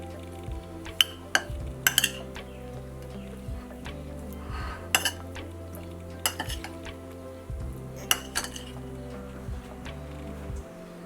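Eggs are beaten with utensils in a bowl for a shrimp and egg stir-fry. Light clinks and taps fall irregularly over a steady low kitchen hum, close by and fairly quiet, with no talking.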